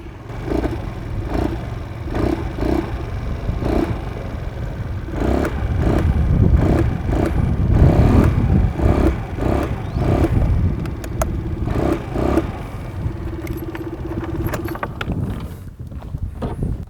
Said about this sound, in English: I'll fire up the exhaust as well so that you can figure if there is any difference in terms of the exhaust note